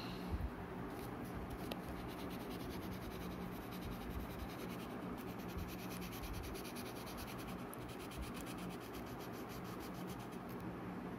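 Orange colour being applied to paper with steady soft rubbing and scratching strokes, faint and continuous throughout with no talk.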